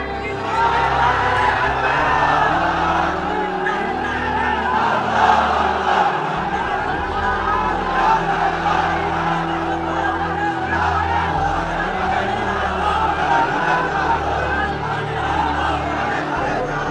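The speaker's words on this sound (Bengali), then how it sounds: "তাকবীর দেন তো একজন আওয়াজ করে" A large sermon crowd loudly chants the takbir in unison, a sustained roar of many voices that holds strong and fairly steady throughout the whole stretch.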